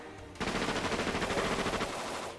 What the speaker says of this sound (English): Let's blast it with a rocket launcher this time.